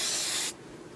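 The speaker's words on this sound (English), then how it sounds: "Take a very flexible hold hairspray and just mist it." A flexible-hold hairspray is misted onto hair in one short, loud hissing burst about half a second long that cuts off abruptly into quiet room tone, with no talking.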